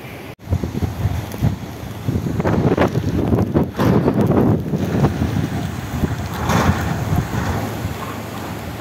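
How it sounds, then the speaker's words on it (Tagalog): Strong wind roars and buffets against the microphone in heavy, gusting rushes, with rattling of a metal roof underneath and no talking. "Lakas ng hangin."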